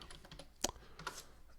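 Password being typed on a computer keyboard, a quick scatter of soft key clicks with one sharper tap, close and quiet.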